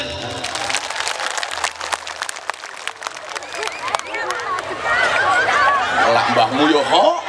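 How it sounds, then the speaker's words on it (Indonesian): Crowd applause at a religious gathering marking the Tuban city anniversary and the Prophet's birthday (Maulid), a dense patter of clapping mixed with laughter and chatter that swells toward the end. "tepuk tangan untuk Tuban."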